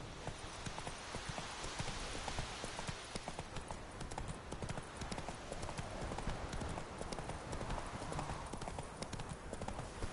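The horse Roach trots along in The Witcher 3 video game, a steady run of rhythmic hoof clip-clops across the whole stretch, fairly quiet, with faint voices now and then.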